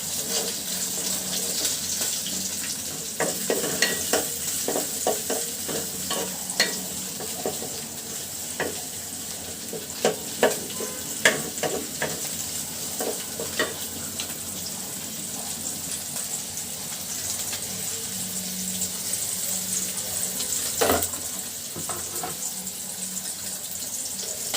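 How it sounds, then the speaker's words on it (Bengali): Fish fries in a pan for an iftar meal with a steady sizzle throughout, broken by scattered clicks and stirring or utensil knocks. "একটাতে মাছ ভাজি করতেছি"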